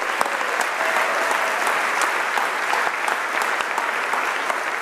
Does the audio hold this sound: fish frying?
no